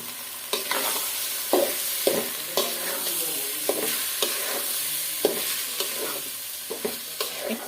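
Washed rice stirred and fried in a pot, with rhythmic scraping spoon strokes over a continuous close sizzle and about a dozen sharp scrapes across several seconds; no voices.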